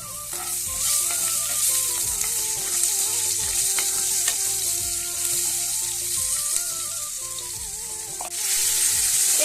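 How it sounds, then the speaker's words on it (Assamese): Panch phoron, onion and chillies fry in hot oil with a steady crackling sizzle and occasional stirring scrapes, while a melodic tune plays in the background. "তাৰপিছত দিম পাঁচফোৰণ পিঁয়াজ জলকীয়াও দি দিম"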